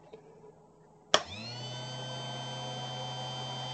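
A reversible $19 VW wiper motor switches on after a quiet moment with a sharp click, then runs with a steady, close electric whine and hum that holds to the end.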